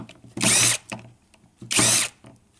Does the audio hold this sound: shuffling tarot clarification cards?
no